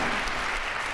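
A church congregation breaks into brief, steady applause during a sermon, many hands clapping in a dense, even burst that fills the moment without speech.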